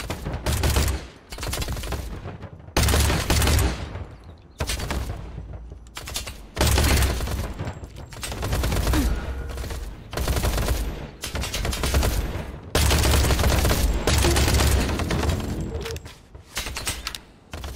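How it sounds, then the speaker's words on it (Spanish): Bursts of gunfire and automatic weapon fire in the shooter video game Industria, loud and repeated in clusters separated by short pauses. "¿Desde dónde me están disparando?"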